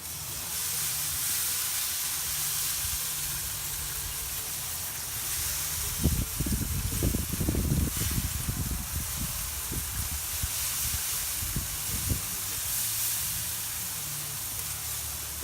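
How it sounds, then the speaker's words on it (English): Ribs and Boston butts cook in a custom smoker as a spray bottle spritzes the meat, giving a burst of close, hissy pumping spritzes over steady fire and smoker noise for several seconds. "I'm gonna spritz this again."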